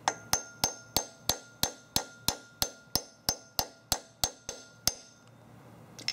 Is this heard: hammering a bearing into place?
yes